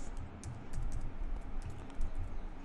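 Fast keystrokes on a computer keyboard while C code for a circular linked list program is typed, a steady close clatter of overlapping taps with no talking.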